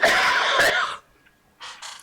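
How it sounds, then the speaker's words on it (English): Several harsh, loud coughs in a quick burst lasting about a second, a short silence, then two more coughs, close to the microphone. "I apologise for the coughing"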